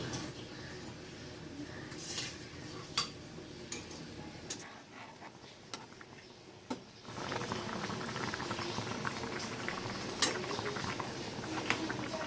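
A pot of paneer in a sweet preparation boils on the stove with a steady bubbling patter and scattered sharp pops, dipping briefly quieter midway before resuming.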